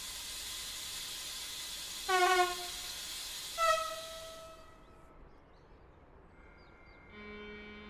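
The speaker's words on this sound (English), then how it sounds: "this time I want to hear the locomotive from outside" A diesel locomotive in the Train Sim World 4 railway simulator, heard from outside: a steady hissing rumble with two short horn-like tonal blasts, fading quieter before another tone rises near the end.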